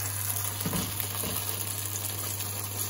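Cauliflower crackles and sizzles as it fries in a small nonstick Tefal pan set to medium heat. A steady, close frying hiss continues throughout with faint pops, and no voices are heard.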